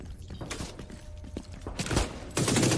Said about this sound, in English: Why are you using a pistol?